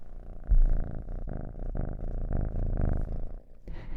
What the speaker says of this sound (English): I have this silver, beautiful, silky boy named Monday on my lap, and he's purring away